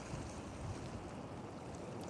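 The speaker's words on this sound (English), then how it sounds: "I'm out here on the beach. It's a windy but beautiful sunny day." On a windy, sunny beach, waves surge in a steady broadband wash while wind buffets the microphone, a dense, continuous roar with no voices.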